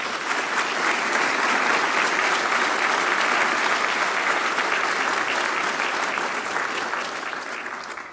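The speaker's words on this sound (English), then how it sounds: "Let's give them all a round of applause." Sustained applause from an audience at the 2023 Western Australia Australian of the Year Awards ceremony, a dense, steady clapping that fills the hall and tapers slightly toward the end.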